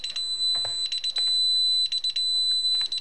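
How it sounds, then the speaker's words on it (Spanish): A security alarm system going off with a sustained high electronic tone and repeated rapid beeping bursts, loud and close, no talk over it. "Aquí, como vemos, el sistema está en alarma"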